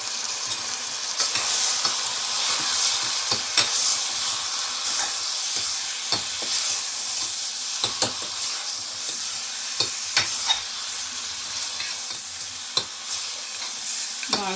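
Gongura mutton with turmeric and chilli powder stirred in a pan, a steady sizzling hiss broken by frequent sharp scrapes and clinks of the spoon against the metal, close and continuous without any voices.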